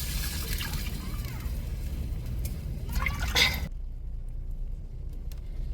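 Masala water, ground on a grinding stone, poured into a crab curry: a close wet splashing pour with dripping that stops abruptly, leaving faint drips and quiet room tone.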